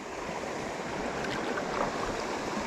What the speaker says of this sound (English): the water's like swirling.